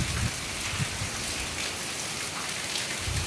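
Heavy rain pours down in a dense, continuous hiss of drops striking surfaces, close and steady throughout with no voices.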